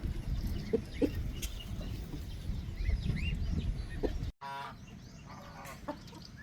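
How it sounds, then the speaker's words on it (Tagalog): Chickens on a farm cluck and chatter steadily during feeding, with occasional louder calls over a rustling, busy background and a short break near the end. "nagpapakain ng ating mga manok. Yan sila."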